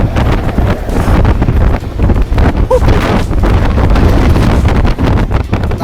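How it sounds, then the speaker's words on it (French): Heavy wind pounds the microphone in a constant loud roar with gusty buffeting, while a voice speaks briefly under the noise. "le vent."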